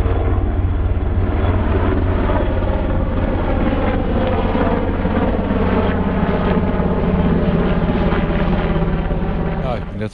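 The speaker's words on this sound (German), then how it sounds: "hier fliegen auch die ganze Zeit Hubschrauber durch die Gegend" A loud, steady engine drone with a rapid pulsing beat as military helicopters pass close overhead near a training ground in a wooded area, filling the whole stretch without a break.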